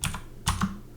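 A couple of quick computer keyboard key presses, typing two letters while working in architectural design software, crisp and close within about a second, with no talk.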